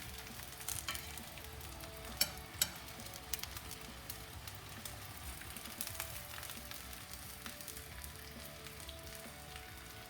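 Minced beef frying in a pan for baked eggplant with minced beef, a constant soft sizzle with occasional crackles and a couple of sharper stirring knocks, no talking.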